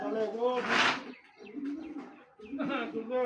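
A pigeon coos close by in repeated soft, throaty bursts, with a short pause between the calls.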